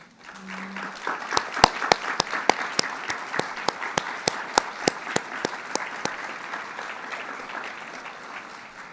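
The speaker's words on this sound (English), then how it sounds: "please stand and be recognized with a round of applause" An audience at a university scholarship awards ceremony applauds donors, a soft wash of clapping in a large room with one nearby pair of hands striking sharp, regular claps over it.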